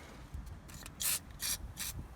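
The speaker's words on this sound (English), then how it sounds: "you need to literally keep on spraying" Three short hissing bursts from a spray can onto a seized handbrake on a Mk4 Ford Mondeo, evenly spaced and close, with faint rubbing noise in between.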